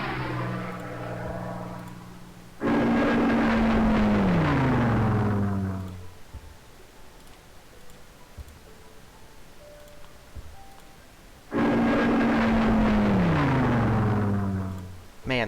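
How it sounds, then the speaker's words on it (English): A Spitfire fighter plane in Civilization III roars past in two separate passes, each a loud engine drone that falls in pitch as it goes by, with a quiet gap between them. "Got a Spitfire there."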